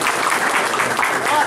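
Audience applause at a community meeting about a settlement eviction in Miches, El Seibo, dense steady clapping for a short burst with no pauses.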